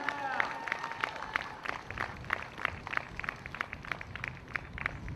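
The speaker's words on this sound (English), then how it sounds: "Give a round of applause for Dawn Dunlap" Sparse, rhythmic hand clapping from a small rally crowd greets a speaker, the claps steady and moderately distant over background murmur.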